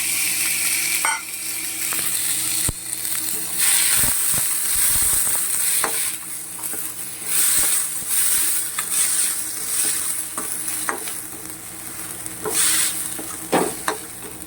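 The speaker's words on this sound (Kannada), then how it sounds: "ಬಟಾಣಿನ ಈಗ ಇದಕ್ಕೆ ಆ್ಯಡ್ ಮಾಡಿದ್ದೀನಿ ಸೊ ತಡ ಸೀದೋಗ ಸ್ವಲ್ಪ ಮಿಕ್ಸ್ ಮಾಡ್ಕೋತಾ ಇರಿ ಸಿಮ್ಮಲ್ಲಿ ಇಟ್ಕೊಂಡೆ ಫ್ರೈ ಮಾಡಿ ಇದನ್ನು" Fresh green peas fry in a pan on low heat for a samosa filling while a spoon stirs them now and then, a steady close sizzle running throughout with occasional scrapes and knocks against the pan.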